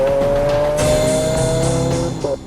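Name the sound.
Lamborghini Aventador driving on race track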